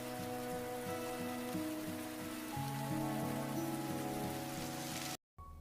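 Rain falls steadily in a drama scene, a continuous soft hiss beneath a repeating melodic music bed that cuts to silence for a moment near the end.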